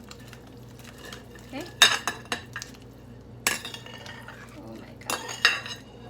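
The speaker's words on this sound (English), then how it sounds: "I'm gonna add some pork belly into the pot." Pork belly going into a pot for Lao num mee ka tee, with metal utensils clanking and scraping against the pot in several sharp bursts while stirring; a voice speaks briefly between the clatter.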